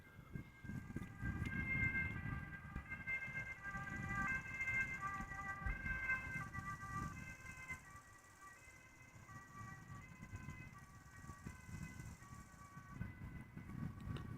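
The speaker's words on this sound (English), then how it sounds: "I'm hearing sirens of an ambulance," An ambulance siren wails at Amsterdam Schiphol Airport, its repeating two-tone pattern carrying from a distance over a low rumble of traffic and engines, quiet overall.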